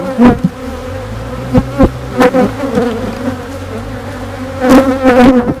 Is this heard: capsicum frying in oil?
no